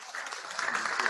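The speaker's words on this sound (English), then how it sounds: "Let's give him a round of applause." Brief burst of audience applause at a book signing event, a dense wash of clapping that builds quickly and stays moderately loud.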